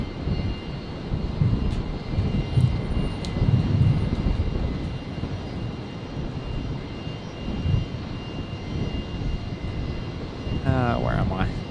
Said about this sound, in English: Qantas 624, just touching down from Melbourne.